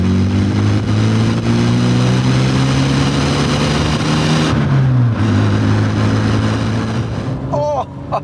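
A barn-find MG Maestro with a 4-speed gearbox, 68 horsepower and lowered suspension accelerates hard along a road, its engine droning loudly and rising steadily in pitch, dropping briefly at a gear change, then pulling on over constant road noise.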